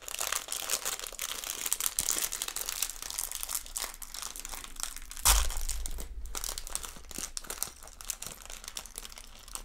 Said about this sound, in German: die letzte Tüte wird geöffnet.